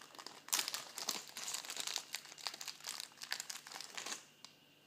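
Plastic wrapping from an eBay package crinkles and rustles in a steady run of close, dense crackles with brief louder bursts while the parcel is opened, with no talking.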